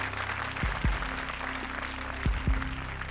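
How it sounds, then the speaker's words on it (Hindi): Studio audience applause on a Hindi comedy show, a moderate wash of clapping underneath with a few heavy low thumps and a sustained musical tone, no speech. "जोरदार तालियां कुलदीप और शयांतनी के लिए"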